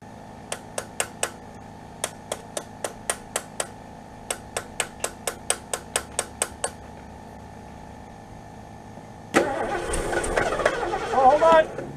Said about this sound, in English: you gotta hit it with a rock or a hammer